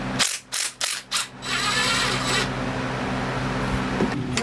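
Ratchet wrench spinning off bolts on a sailboat's inboard engine before removal, several quick clicking bursts at first, then a steady mechanical rattle running on, close by with no talk.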